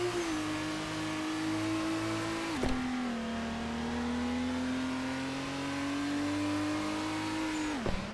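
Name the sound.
car engine revving in video game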